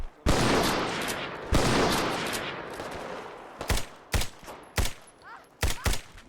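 Rifle fire in modded Fallout 4: two heavy booming shots with long decaying tails, then a quicker run of five or six sharp, loud cracks close by.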